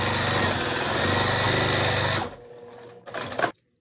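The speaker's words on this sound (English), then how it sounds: "Now I'm gonna sew this part to this part." A sewing machine stitches quilt block pieces with a steady, loud, close whirring hum for about two seconds, then slows into a few short bursts before stopping.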